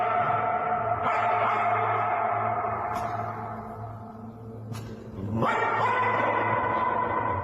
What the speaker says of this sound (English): A dog named Firulais was spotted behaving strangely in front of a statue of the Virgin Mary